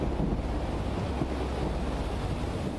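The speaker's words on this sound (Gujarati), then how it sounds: "ધોધમાર વરસાદ વરસી રહ્યો છે, જેને લઈને અનેક નદી નાળાઓની અંદર પાણી આવ્યા છે।" Floodwater from a heavy downpour rushes over a river diversion road, a constant broad roar of churning water mixed with buffeting wind on the microphone, loud and unbroken, with no one speaking.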